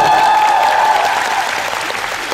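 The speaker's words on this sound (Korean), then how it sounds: "다시 한번 뜨거운 박수 부탁드리겠습니다" An audience at a 2011 ATSS rehearsal event bursts into loud, dense applause, a continuous wash of many hands clapping close by that holds steady and eases slightly toward the end.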